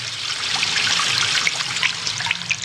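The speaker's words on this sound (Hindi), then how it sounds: "अरे वाह, ये देखो पानी कितनी तेजी से बह रहा है।" Fast-flowing water rushes and splashes steadily, a continuous bright hiss of moving water with small bubbling spikes, fairly close and loud with no voices.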